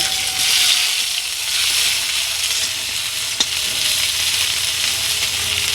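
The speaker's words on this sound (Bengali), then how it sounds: "এবার আমি সেই তেলে দিয়ে দেবো শুকনো লঙ্কা এবার দিয়ে দেবো জিরে দেবো আদা বাটা" Dry red chillies, cumin seeds and ginger paste sizzle steadily in hot oil in a home kitchen, with a bright, even crackle throughout and a single sharp click partway through.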